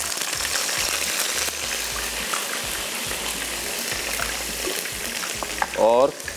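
Garlic ginger paste fries in hot oil for a white mutton biryani, giving a steady, loud, close sizzle that fills the whole stretch, with a brief voice near the end.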